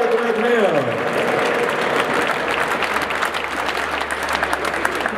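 A crowd at the Show & Shine award ceremony of a tuning car show at Lake Constance breaks into loud, dense applause over several seconds, with voices and a falling vocal sound near the start before the clapping dominates.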